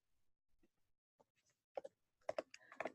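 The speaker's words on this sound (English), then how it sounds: "I'm going to type it in the chat." Computer keyboard typing in a quiet room: faint scattered key taps, then louder clusters of quick clicks building toward the end.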